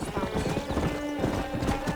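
Horse hooves gallop in Red Dead Redemption, a fast, steady clip-clop rhythm running close and loud throughout, with a brief whinny and a voice speaking over the hoofbeats.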